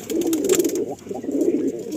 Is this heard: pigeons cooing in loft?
yes